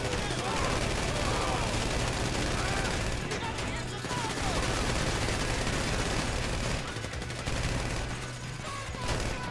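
Gunfire in the GTA V Online video game rattles almost nonstop, loud and close, with dense overlapping automatic bursts and brief dips as a heist shootout rages.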